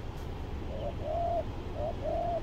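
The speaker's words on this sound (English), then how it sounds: "You get the Australian crested pigeon." An Australian crested pigeon calls outdoors with soft, clear coos in two pairs, each a short note followed by a longer drawn-out one, heard at moderate distance over a steady low background hiss.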